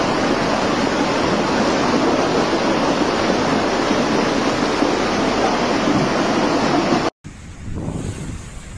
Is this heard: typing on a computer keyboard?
no